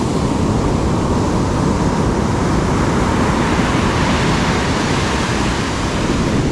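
Continuous loud roar of surf, waves rushing ashore in a steady wash of noise, with no voices.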